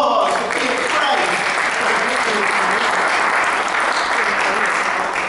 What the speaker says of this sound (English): give her a round of applause for being brave.